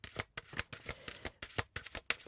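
Playing cards being shuffled in quick repeated riffles during a tarot-style card reading, a steady run of close, papery bursts with short gaps between them.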